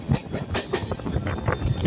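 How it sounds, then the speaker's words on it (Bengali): A Lalgola EMU local train running on a Bengal suburban line, heard as a loud, close rumble with rhythmic clatter of wheels over rail joints, continuous throughout. "আমাদের ট্রেন লালগোলা ইমু লোকালকে পেছনে ফেলে দিয়ে"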